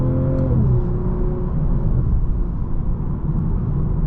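2023 BMW M440i Coupe heard from inside the cabin while driving, a loud continuous engine rumble and road drone with a rising tone early on that then settles into a steady hum.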